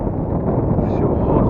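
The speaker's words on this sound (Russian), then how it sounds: "Ветер 6 метров в секунду." Strong wind at about 6 metres per second buffets the microphone on a small inflatable boat with a 5 hp outboard motor, a loud low rumbling roar throughout.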